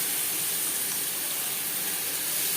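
Chopped onions sizzle in a pan for a katla fish curry, a steady bright hiss of frying oil holding constant and close, with no voices.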